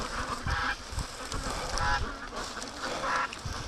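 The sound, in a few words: goose honking an alarm call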